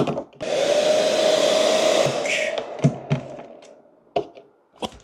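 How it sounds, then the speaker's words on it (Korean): A hair dryer whirs loudly for about two seconds then winds down, heating a DDR5 RAM module to remove its heat spreader, followed by scattered knocks and clicks of handling. "드라이기로 하면 되려나?"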